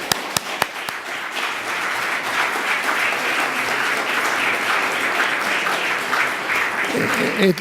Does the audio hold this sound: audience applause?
yes